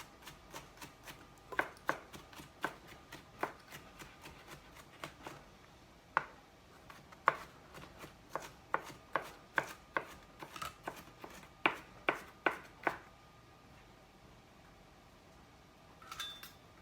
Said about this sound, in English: Maybe I'll chop this up a little smaller so it spreads out a little more evenly through my